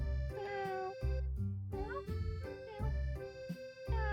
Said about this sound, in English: God, that was the loudest meow I heard.